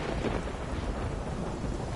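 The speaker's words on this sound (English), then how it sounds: "The storm's great, by the way. Just love listening to it." Thunderstorm with heavy rain in the video game Witcher 3, a dense low rumble of thunder over steady pouring rain, continuous and fairly loud, no voices.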